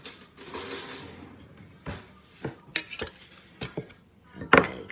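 A spoon and dishes clink in a home kitchen while raspberry bars with oats are prepared, with several sharp, close metallic and ceramic clinks scattered irregularly over soft handling noise.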